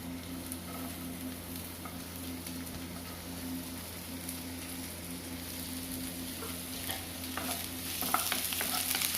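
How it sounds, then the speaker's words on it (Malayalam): Sliced onions sauté in coconut oil with a steady, close sizzle and occasional stirring scrapes, a constant hiss that builds slightly toward the end, with no talking. "വെളിച്ചെണ്ണ ഒഴിച്ചു കൊടുത്ത് അതിലേക്ക് നമുക്ക് ഈ സവോള ഇട്ടിട്ടൊന്ന് വഴറ്റാം"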